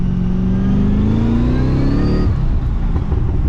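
A Pontiac GTO accelerating hard, its engine note climbing steadily in pitch, then dropping sharply at a gear shift before pulling again, loud and close.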